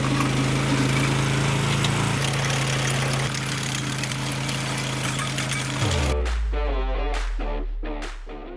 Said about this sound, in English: The trenching machine did not like going up or down hills